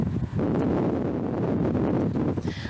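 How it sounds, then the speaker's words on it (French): Violent storm wind in Haute-Corse, gusting up to 216 km/h: a loud, continuous roaring rumble buffeting the microphone, steady throughout with slight surges. "Un vent déchaîné s'est abattu sur la Haute-Corse."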